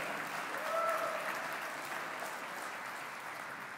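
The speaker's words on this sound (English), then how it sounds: "I think that deserves another round of applause" An indoor audience at a city's State of the City address breaks into steady, moderately distant applause that holds evenly throughout.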